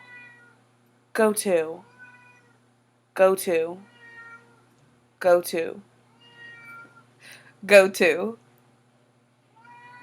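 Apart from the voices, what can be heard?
cat meowing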